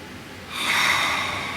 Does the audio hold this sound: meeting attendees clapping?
no